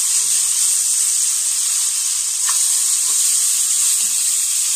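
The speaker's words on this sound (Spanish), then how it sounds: "lo que voy a hacer es a refreír las presas" Chicken pieces frying in hot oil make a loud, steady sizzle and hiss close up, with faint clinks now and then and no voices.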